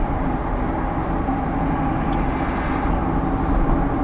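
Norfolk Southern freight train, symbol 206, running from Chicago's 63rd Street Yard east toward Buffalo, rumbles past as a steady, loud, continuous roar of wheels and engines with no voices.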